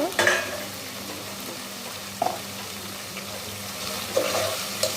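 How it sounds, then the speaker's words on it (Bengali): Goat head meat sizzles steadily in a frying pan as a utensil stirs it, with several sharp scrapes and clinks against the pan over a constant frying hiss. "ভালো করে লাড়াচাড়া দিয়ে দিচ্ছি"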